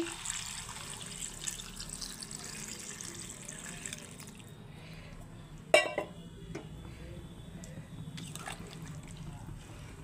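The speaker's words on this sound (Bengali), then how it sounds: "এখন আমি জল দিয়ে দিচ্ছি" Water poured into chicken curry cooking in a pot, a running, splashing wash for the first few seconds that stops, followed by a single clear clank and faint quiet drips.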